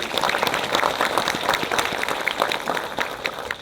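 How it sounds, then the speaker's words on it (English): Audience applause for two entrepreneurs at a business talk, a dense, steady clapping from a crowd that stays loud and fairly close throughout, with no voices over it. "A round of applause for the two entrepreneurs."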